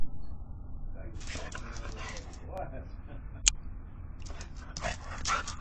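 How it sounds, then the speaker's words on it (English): A dog caught on a home dog cam at night whimpers and yips in short, high bursts over a low background hum, with a sharp click partway through and a person talking alongside. "captured by a dog cam, you'll see a dog named Shiloh"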